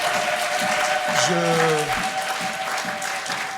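A congregation at a Sunday church worship service breaks into a sustained round of crowd applause, steady and fairly loud, with a voice carrying a held tone over the clapping.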